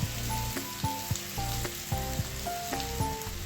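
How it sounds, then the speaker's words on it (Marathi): Coarsely mashed potato sizzling in a hot pan for Mumbai-style vada pav filling, a steady fry hiss with recurring soft clicks from stirring, set against a melodic background tune. "आता ह्यामध्ये आपण बारीक केलेला बटाटा घालून घेऊया"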